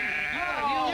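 A sheep lets out one loud, wavering bleat close up, a short nasal call that rises and bends in pitch and lasts about a second.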